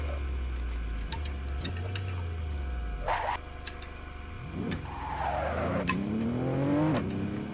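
Race car in Assetto Corsa skidding and crashing: engine drone with tire squeal, sharp ticking impacts and a rising engine wail near the end, fairly quiet and with no talk.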